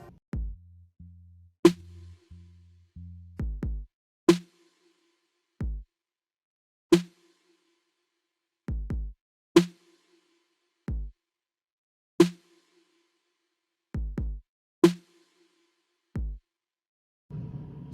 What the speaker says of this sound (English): So we're first going to start off with drums